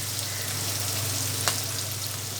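Onion with bay leaf frying in hot oil in a pan, a steady close sizzle with a faint crackle, no talking.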